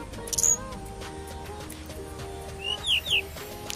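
A caged tledekan songbird gives short sharp chirps and a few quick whistled notes, fairly faint over a steady background hum.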